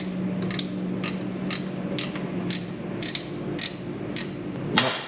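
A ratchet clicks while releasing the alternator belt tensioner on a Mitsubishi Lancer, about nine sharp evenly spaced clicks over steady background hum, close and alone.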